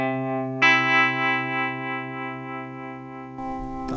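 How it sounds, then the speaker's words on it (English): An electric guitar note rings through a harmonic delay effect, sustaining long and smooth with layered repeats and a slightly distorted tone. A fresh attack comes in under a second, then a scratchy strum near the end. "the other sound I love off of here is the harmonic delay"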